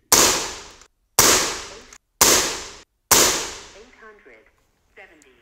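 Four sharp, loud shots from an FX Maverick PCP air rifle firing pellets ring out at roughly one-second intervals. Each crack is close and decays quickly, followed by faint metallic clinks and a soft murmur at the end.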